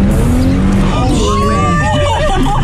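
A car spins and skids during cadet driving training, with tires squealing loudly and continuously over engine noise while voices talk over it.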